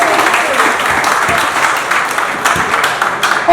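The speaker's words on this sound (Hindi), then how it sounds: "आप लोगों के खुद के लिए आप तालियां बजाओ" An audience of successful Delhi Police recruits at a selection celebration claps, a dense, loud patter of applause running throughout with some voices mixed in.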